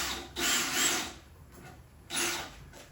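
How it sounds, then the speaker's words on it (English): A small power drill bores into reclaimed wood in two short bursts, a whirring grind of about 0.7 seconds and then a second shorter run after a pause, close up with no talking. "So we're going to take that little drill here."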